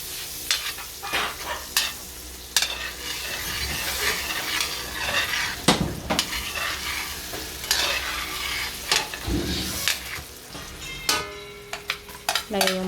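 Butter sizzles in a frying pan (kawali) as a utensil stirs and scrapes, with sharp metallic clinks and taps breaking over a continuous crackling hiss.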